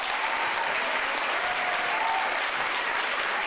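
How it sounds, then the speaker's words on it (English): An audience at a summer program keynote applauds steadily, a thick, even roar of many people clapping that fills the room without pause or speech. "can we please give Damien a round of applause for getting us set up?"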